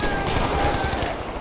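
Dense, crackling gunfire rattles through a Battlefield 5 multiplayer match, a continuous barrage of overlapping shots at steady volume.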